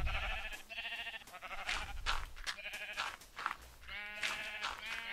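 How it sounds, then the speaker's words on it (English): Sheep in the video game Minecraft bleat repeatedly, several close, clear baas in a row with short gaps between them. "You, sheep, in here, now."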